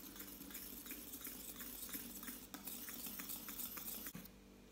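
A face mask mixture of moisturizer and cream is stirred in a bowl, giving a steady run of light scraping clinks at an even rhythm, close and moderately quiet, with no talking.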